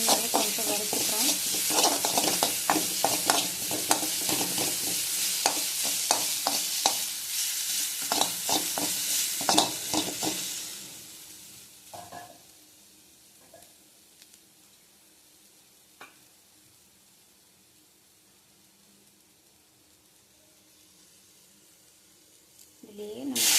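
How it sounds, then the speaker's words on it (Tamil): Ground paste fries in oil with mustard seeds and curry leaves for tomato rasam, giving a loud dense sizzle with stirring scrapes for about ten seconds before it fades to a quiet low hiss with a few faint clinks. "அந்த அரைச்ச விழுதை எண்ணெயில் கொஞ்சம் வறுத்துக்கிறோம்"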